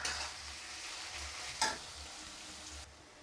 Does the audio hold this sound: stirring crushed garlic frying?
yes